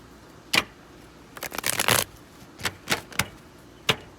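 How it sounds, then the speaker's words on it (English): Tarot cards shuffled in short bursts: a few sharp riffles and one longer, denser flurry, close and fairly quiet, with no voices. "Last shuffle for Aries and relationships."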